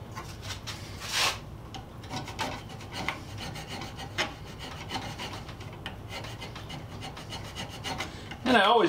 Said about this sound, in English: I'll go over it with a copper now, just to make sure we got everything all on the up and up.